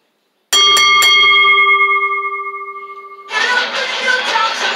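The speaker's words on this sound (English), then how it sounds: "Ring the bell." A wrestling ring bell rings at the end of a women's match: three sharp metallic clangs in quick succession that ring on and slowly fade, then a burst of loud crowd noise takes over.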